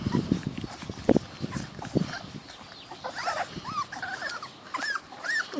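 Small puppies moving around close by, with soft padding, scuffling and light knocks, followed by a run of high whimpers and squeaks.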